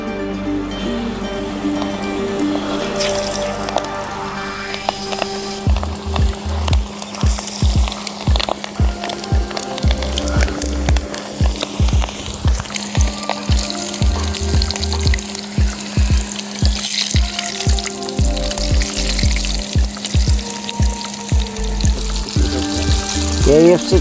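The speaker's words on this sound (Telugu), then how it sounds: "ఇప్పుడు చికెన్ వేసుకుందాం." Chicken pieces frying in hot oil for KFC-style fried chicken at home, a dense crackling sizzle like rain, with a run of low rhythmic thumps through the middle.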